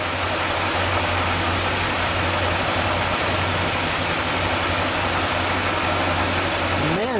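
A 1959 DeSoto Adventurer's 383 dual-quad V8 idles close by, loud and even with a smooth, steady low rumble throughout.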